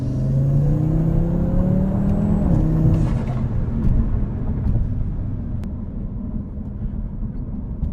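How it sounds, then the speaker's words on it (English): A 440 hp Audi RS3 with a cheap aftermarket intake revs up loudly nearby, its engine tone climbing, then drops off into a hiss and rushing whoosh of air induction and diverter valve release, fading to a low rumble. "you can definitely hear the air induction way more, and you can hear the diverter valve"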